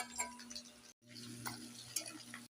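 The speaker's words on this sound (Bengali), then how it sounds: "এবারে সেই তেলে, মাংসের তেলেই ফোড়ন দিচ্ছি।" Whole spices such as cinnamon, cardamom, peppercorns, bay leaf, cloves and a dried chilli sizzle in hot mutton fat left from frying the meat, a soft close crackle with faint clinks of a utensil, briefly cut off midway.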